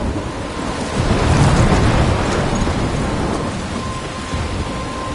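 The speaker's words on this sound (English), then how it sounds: "I'm trapped in a storm?" Thunder rumbles under steady heavy rain during a storm in the video game Life is Strange, a loud continuous wash swelling early and staying constant.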